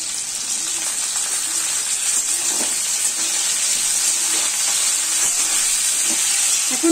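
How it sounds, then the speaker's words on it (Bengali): Potato pieces and beans frying over fried onions in a pan on high heat, a steady loud sizzling hiss that runs throughout with faint clatter, no talk. "এখন আমি আঁচটা জোরে দিয়ে ভাজছি, ভালো করে ভেজে নেব।"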